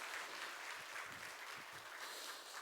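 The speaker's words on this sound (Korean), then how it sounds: "박수로 목사님 한번 환영했으면 좋겠습니다" A church congregation at a Holy Week special dawn prayer service claps to welcome the pastor: a faint, distant, continuous patter of many hands lasting a couple of seconds.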